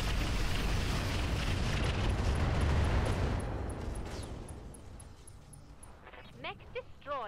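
In the video game Roguetech a mech explodes with a loud, sustained, rumbling roar that fades over several seconds, followed by a quieter stretch with scattered lighter effects.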